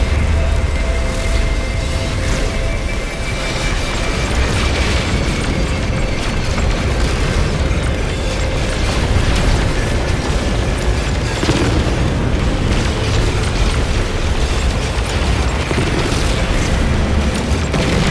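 Heavy torpedoes from a pirate dreadnought explode in a No Man's Sky space battle, making a loud, continuous rumble of deep booms with mechanical clatter layered over it, and no voices.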